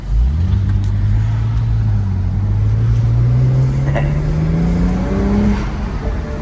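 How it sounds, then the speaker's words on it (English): A wrecked BMW pulls away on its first test drive, its engine rising steadily in pitch as it accelerates, loud and close throughout with some road and wind rumble underneath. "So we're about to go on its maiden voyage, first test drive, and see how this thing drives."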